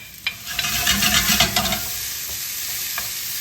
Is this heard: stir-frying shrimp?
yes